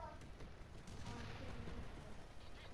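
Grenade launcher fire in Call of Duty Black Ops 3 comes as a dense, steady wash of booming blasts and battle noise, fairly distant and muffled, with a voice faintly under it.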